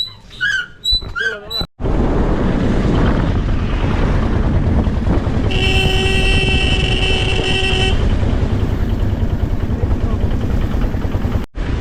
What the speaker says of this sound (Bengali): ইঞ্জিন ভ্যান ছেড়ে দিয়েছে আমরা এগিয়ে চলেছি